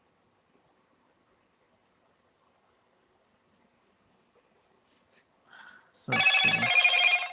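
A telephone rings in a quiet room, with a soft buzz before two short bursts of loud electronic ringing near the end. A person speaks briefly just before it.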